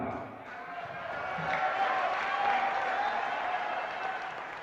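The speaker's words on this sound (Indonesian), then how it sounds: "Jangan cuma tepuk tangan." A crowd applauds at an Indonesian political speech about joining Partai Umat, a dense steady wash of clapping that swells in the middle and then eases slightly, heard from within the hall.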